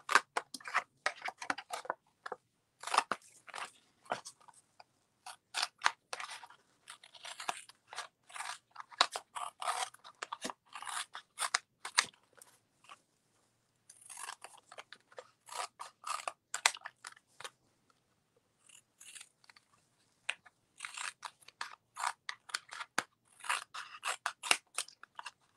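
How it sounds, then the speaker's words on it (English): Scissors snip through paper while an intaglio print is trimmed down, crisp close cuts coming in quick bursts with brief pauses between runs, no voices. "And now I just want to cut this out so that it's smaller than my paper"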